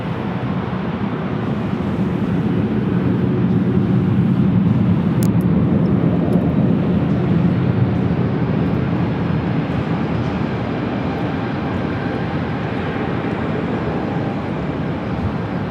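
Alaska Airlines 737-900ER taking off from LAX for Seattle, a broad, steady jet roar that swells slightly early on and then holds at a distant, even level.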